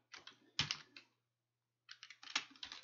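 Someone types on a computer keyboard in two quick bursts of close, crisp keystrokes, with a brief silent pause between them and no talking.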